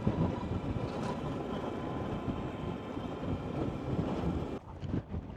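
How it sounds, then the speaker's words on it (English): Strong wind buffets the microphone at a seaside cliff in Iceland, a steady rushing roar with gusty swells that briefly drops near the end, with no voices. "It's super windy, so I'm just gonna keep my helmet on, I think."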